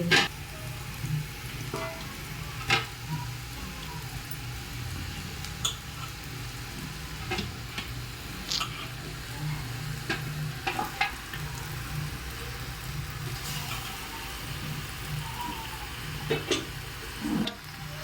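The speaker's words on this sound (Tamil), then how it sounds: "மாமஞ்சல் கறி போட்டு நல்லா எண்ணெய் விட்டு வணக்கி" Country chicken pieces fry in oil with turmeric, giving a steady sizzle close up with occasional light clicks and scrapes from stirring.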